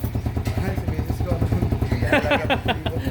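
A repaired motorcycle's engine runs steadily nearby with an even, throbbing idle and some mechanical clatter, while a person talks over it.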